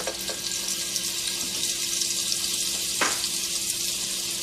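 Unsalted butter sizzling in a pan after sausages, a steady crackling hiss throughout with a brief sharper burst partway through.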